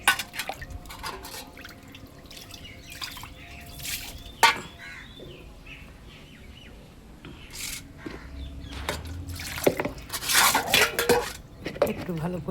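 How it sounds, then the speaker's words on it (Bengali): Small chuno fish are rinsed and washed by hand in a metal pot, with water sloshing and clinking of dishes and utensils in irregular bursts, close by and growing busier toward the end. "একটু ভালো করে জল দিয়ে ভালো করে করে পরিষ্কার করে নিতে হয়।"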